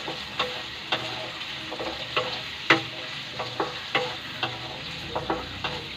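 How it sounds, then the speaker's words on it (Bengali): Potatoes and onions fry in a covered pan, a steady soft sizzle running underneath, broken by a regular series of sharp clicks and taps roughly every half second, with no talking. "এবার আলু পেঁয়াজ এগুলো একটু ভাজা ভাজা হোক, ঢাকা দিয়ে দিলাম।"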